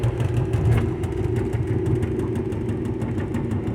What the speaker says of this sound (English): Listen to how loud it is from the bumps in the road.